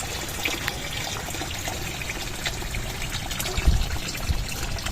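Water churns and trickles steadily in a catfish pond holding 500 fish, kept moving by a pump motor, a constant splashing wash with a few louder gurgles near the end.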